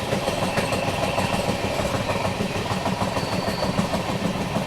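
The Indore–Amritsar Express rolling toward Morena, a continuous loud rumble of wheels and carriage noise with a rhythmic clatter on the rails, heard from onboard with no talking.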